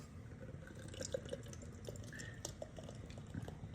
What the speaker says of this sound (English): So let's get this into our glass.